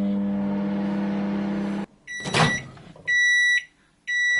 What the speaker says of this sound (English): Time to get it in the microwave.